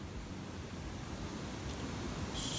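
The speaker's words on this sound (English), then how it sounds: "You are standing at the bottom of 2 waterfalls with no way up." Steady rushing water from two waterfalls in the video game Techtonica, a dense continuous roar heard from the bottom, constant and fairly loud with no talking.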